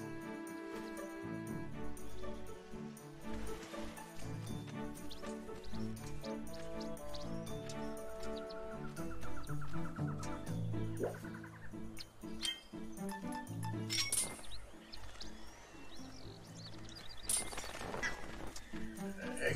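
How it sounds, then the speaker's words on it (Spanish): Bird calls and gobbling fowl cries from the Zelda: Skyward Sword game world, ringing out repeatedly amid a dense, continuous layer of game music and ambience for the full stretch. "Está difícil conseguir esos pájaros"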